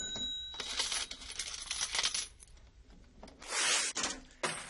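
Opening of a 1973 song: jingling coins, clinking metal and cash register rattles in a rhythmic sequence of bright bursts, close and alone without voices.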